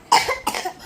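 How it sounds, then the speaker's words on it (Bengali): Two close, loud coughs in quick succession from an adult, the second slightly softer, in a quiet room. "এই কাশি"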